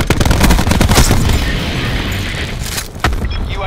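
A frag grenade in Black Ops 4 on Xbox One goes off in a loud, close blast mixed with bursts of gunfire, and a second sharp bang follows near the end.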